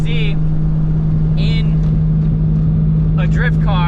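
Ford Mustang with a 2JZ engine drives along, a loud, steady drone with a strong, constant low hum close to the car, while people talk over it in short bursts.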